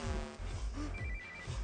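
A telephone rings in a Telugu film scene, a brief electronic ringing tone, fairly quiet and mixed with background score.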